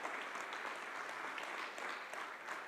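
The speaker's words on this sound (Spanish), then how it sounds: "Denle un aplauso a la palabra de Dios." A church congregation claps in applause, a dense, steady wash of many hands close by for a few seconds, fairly soft and uninterrupted, with no voices over it.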